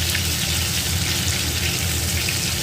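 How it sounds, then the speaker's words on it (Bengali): Pieces of fresh rohu fish deep-fry in hot oil, a steady loud sizzling hiss that stays dense and even throughout, with no voices. "একটু ডিপ ফ্রাই করে নেব।"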